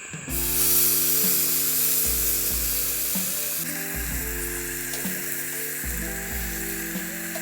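Food sizzles and fries on a butane Scotty grill outdoors, a steady close crackling hiss over a repeating low electronic hum that keeps starting and stopping.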